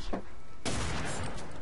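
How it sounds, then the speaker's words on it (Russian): Gunfire in the shooter game F.E.A.R. 3, a brief burst of rapid shots followed by a dense, sustained roar of firing, fairly loud and close with no talk. "Ну-ка, выстрели еще раз."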